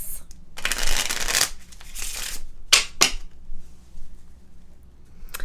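Playing cards are riffled and shuffled close by, one long crisp flutter and then a few shorter snaps and bridges, with quiet pauses in between.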